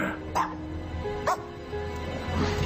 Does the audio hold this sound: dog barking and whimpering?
yes